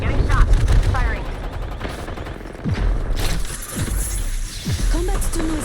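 Gunfire in the Apex Legends video game during a trios match on Storm Point, with sharp bursts and volleys of shots up close, mixed with combat effects and ongoing game noise throughout.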